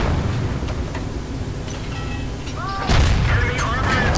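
A Churchill tank gun fires in World of Tanks gameplay: one heavy boom lands near the end of the clip over a low rumbling battle background, with speech-like chatter around it.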